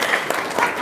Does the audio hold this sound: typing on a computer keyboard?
no